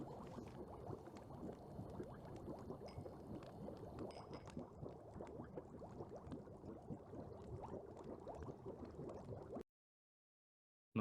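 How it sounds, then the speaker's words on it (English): Dense bubbling and gurgling of liquid, like a boil, runs steadily and fairly loud for about nine and a half seconds, then cuts abruptly to silence with a brief burst right at the end. "Noise of the bubbling fade away."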